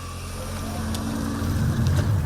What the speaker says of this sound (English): the rather gruff engine note fires up to the accompaniment of a green ready message and a twinkling chime